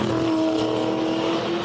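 Race cars roar past at a 2011 race finish, a loud steady engine drone with a sustained high tone and no talk over it.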